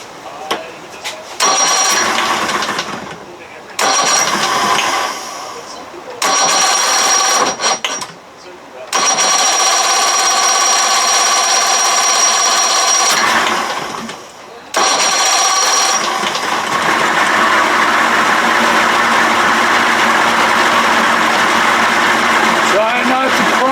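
A 1992 60 hp Johnson outboard motor cranks in several bursts, then catches and runs steadily with a loud, continuous drone that holds until the end.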